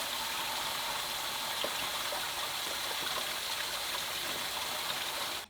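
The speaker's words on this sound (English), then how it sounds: "Now to fill this up with water and give it a test run and line up the cans." Water runs through a 24-plant vertical hydroponic unit built from a recycled 30-litre KeyKeg during a test run, giving a steady, even splashing and trickling rush that continues without a break at moderate volume.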